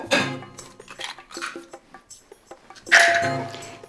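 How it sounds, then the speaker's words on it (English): Eggs, eight in total, are cracked into a bowl one after another, with light taps, clinks and splats from close by, no talking. "We're going to crack these eggs,"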